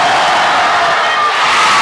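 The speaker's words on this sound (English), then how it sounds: "Listen to the crowd." A basketball crowd at a boys' high school game roars loudly and continuously ahead of a free throw, a dense wash of cheering and shouting that fills the whole moment.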